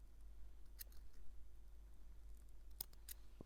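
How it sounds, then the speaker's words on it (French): A couple of faint, quick snips from scissors cutting thread for handmade woven and embroidered feather earrings, heard close against a low steady hum. "vous pouvez venir couper votre fil"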